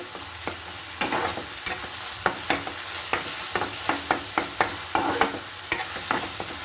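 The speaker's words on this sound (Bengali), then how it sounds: "পেঁয়াজ, রসুন, আদা, কাঁচা লঙ্কার পেস্টটা এবার দিয়ে দিলাম। ভালো করে ফ্রাই হতে দেবো।" A paste of onion, garlic, ginger and green chili fries in a pan for garlic ginger chicken, with a constant hiss and sizzle and a spatula scraping and stirring in a regular rhythm, close and fairly loud.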